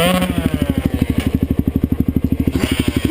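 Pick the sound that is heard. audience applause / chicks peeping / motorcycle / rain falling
motorcycle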